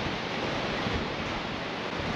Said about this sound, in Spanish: Estoy en la orilla del mar, mira.